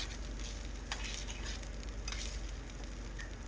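Noodles fry in a pan, giving a continuous close sizzle while a utensil stirs and scrapes through them in short, irregular strokes.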